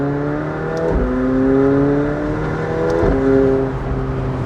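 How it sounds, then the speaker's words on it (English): A McLaren 720S Spider with a 3.8-liter twin-turbo V8 driving off, its loud engine note rising in pitch through two upshifts with brief dips between them, close and with no talk over it. "So let's go ahead and take it out for a drive."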